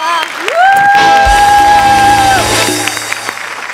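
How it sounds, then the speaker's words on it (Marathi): Audience applause and cheering on a Marathi comedy stage show, rising into a loud sustained swell beneath a long held musical tone, with shouts mixed in before tapering off. "मी उभा राहून एकदा टाळ्या वाजवतो जोरदार."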